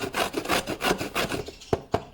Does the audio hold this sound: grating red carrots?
yes